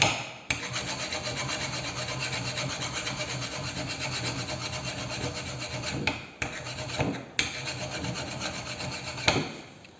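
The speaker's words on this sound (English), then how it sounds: "This is known as draw filing." A file draws across a metal workpiece in steady back-and-forth rasping strokes, close and fairly loud, with brief pauses between passes and no talking.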